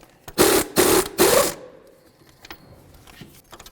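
Three loud bursts of a power tool or impact wrench removing 21mm caliper mounting bolts on a Dodge Journey during front CV axle work, each about half a second, followed by quieter clinks and handling noise.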